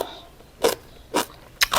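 Crisp crunching bites of spicy pounded green papaya salad repeat at a steady pace, each a short dry crackle close to the ear, with quiet pauses between.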